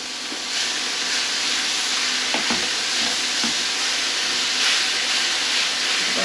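About two pounds of ground meat stirred and cooked in a pan, a dense continuous sizzle and hiss with occasional scraping knocks of the utensil, close and fairly loud, no talking.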